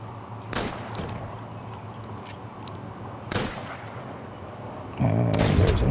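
Sporadic gunshots in the pirate game Sea of Thieves, a couple of separate sharp reports spaced a few seconds apart over steady background ambience, with a louder rushing sound rising at the end.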